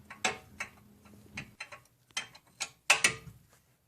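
A hand ratchet clicks in short, uneven bursts while loosening a 19mm bolt under a 2001–2006 Hyundai Elantra during a front axle job, the clicks close and fairly quiet.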